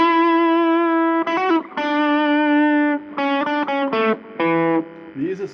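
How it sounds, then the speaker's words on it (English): An electric guitar lead solo from a rock song, played with distortion, heard as loud sustained single notes and quick note changes with bends near the end, alone with no talk. "And a cool lead solo which should sound something like this."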